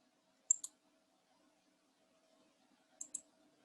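A computer mouse clicks twice in quick pairs, a sharp double click near the start and another double click about two and a half seconds later, with faint room hum between.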